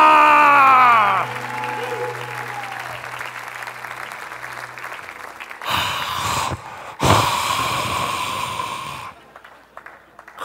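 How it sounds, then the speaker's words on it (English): A church congregation breaks into loud cheering and clapping in two sharp bursts, the second swelling briefly before fading, after a quieter stretch with a sliding tone and a low hum. "Crowd goes wild."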